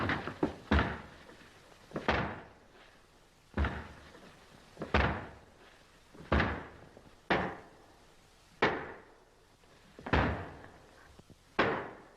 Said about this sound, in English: Break that door down.